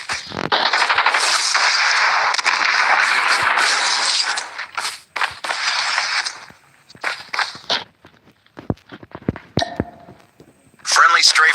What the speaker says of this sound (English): Friendly strafe run is incoming.